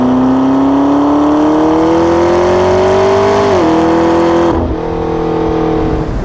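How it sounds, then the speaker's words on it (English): A McLaren 12C's turbocharged engine pulls hard from inside the car, its tone rising steadily through a long loud climb before a brief gear-shift dip and renewed pull. "That turbocharged engine provides a real hearty punch, especially in the mid-range."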